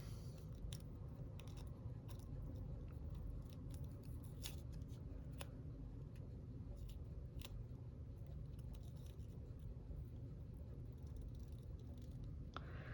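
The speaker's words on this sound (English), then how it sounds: "I probably should have gotten bigger scissors so I could cut this all at once." Small scissors snip through paper for a junk-journal crossword page, a steady series of short, crisp cuts close to the microphone over a low background hum, with no talking.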